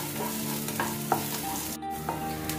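Ginger and garlic sizzle in well-heated oil, with a spoon stirring and tapping the pan in a few light strokes over the steady frying, close and without voices.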